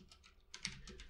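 Typing on a computer keyboard, quick clustered keystrokes in a short, close burst with a few louder taps near the end, no voices.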